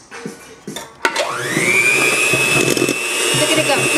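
An electric mixer whirs into action during home baking, rising to a steady loud drone after a few clattering knocks, with voices in the background.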